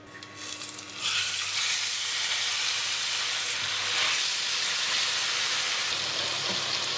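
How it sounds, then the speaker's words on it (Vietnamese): Tofu deep-frying in a pan of hot oil over high heat, a dense, steady sizzle with bright crackling that jumps louder after the first second and stays constant, close and unbroken, with no talking. "Và vẫn với cách này mình chiên cho nó không có bị văng dầu."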